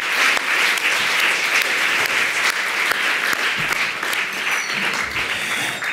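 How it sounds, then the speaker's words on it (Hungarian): An audience applauds at a Sunday evening church service, a dense, even wash of clapping hands with crisp individual claps popping out, sustained at a steady level throughout. "Márkék szerintem megérdemelnek még egy tapsot"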